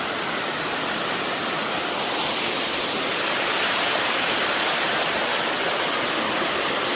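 A strongly flowing stream swollen by typhoon rain rushes in a steady, loud broadband roar, continuous and close, with no voices over it.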